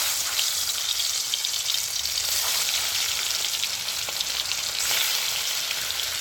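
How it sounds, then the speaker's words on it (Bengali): Turmeric-coated silver carp fish sizzles steadily in hot oil, with a dense, continuous crackle and spitting that holds at a constant level for the full length, close up and unaccompanied. "এবারে মাছটা আমি তেলের মধ্যে ছেড়ে দিচ্ছি"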